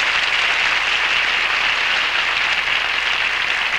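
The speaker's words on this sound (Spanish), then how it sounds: "para Chile y Paraguay, también nuestro aplauso" An audience at the Miss Sudamérica 1986 pageant gives steady, dense applause that sounds like an even patter of rain, holding at a constant level throughout.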